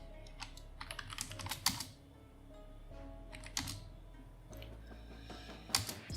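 Bursts of quick keystrokes on a computer keyboard as a password is entered, clicking in short flurries with brief pauses between them, close and clear.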